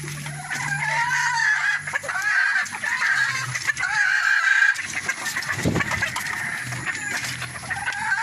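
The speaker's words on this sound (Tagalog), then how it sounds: "Manok po yan ng tatay ko." A rooster clucks and crows nearby, with loud, raspy calls over a busy outdoor background of other birds.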